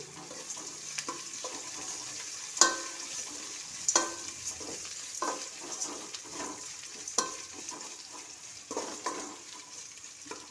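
Onions sautéing with rock salt for a mixed vegetable sambar, a steady soft sizzle broken by irregular spoon scrapes and stirring clicks in the pan, close and moderately quiet with no talking.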